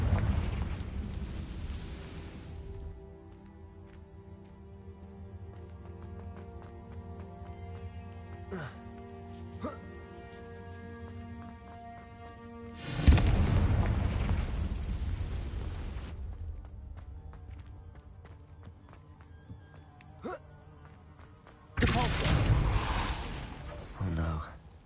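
Fire-blast spell explosions from Confringo in Hogwarts Legacy, heard as loud, booming bursts at roughly the start, middle and end, set against a quiet musical score.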